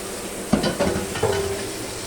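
Dried lotka fish being fried in a pan with onion, ginger and chili paste, giving a steady sizzle with a few sharp stirring scrapes, close and clear, without talk.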